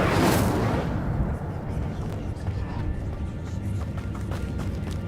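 Incendio fire spell cast in Hogwarts Legacy, a loud burst right at the start that trails into a rumbling, crackling tail with scattered rustling and footstep-like taps, faded under a voice.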